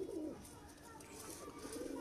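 Black-pearl pigeons of the Mian Nazeer bloodline coo softly in a loft, low murmuring calls fairly faint under faint background noise, rising again at the start and end.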